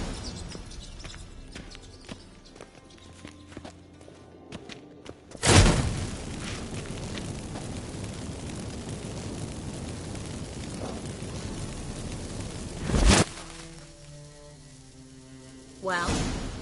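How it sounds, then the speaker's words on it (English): Magic fireworks set off by activated incense in The Witcher 3: two loud whooshing bursts, the first followed by a long crackling fizz, then a later swell, all over a quiet musical background. "Get ready for some magic fireworks. Once I activate the incense,"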